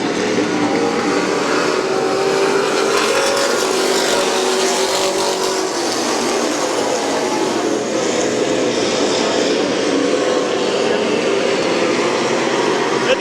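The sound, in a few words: stock race cars racing at Midvale Speedway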